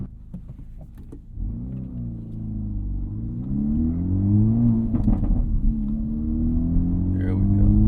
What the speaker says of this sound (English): One thing about this exhaust, it's not going to start popping until the engine heats up.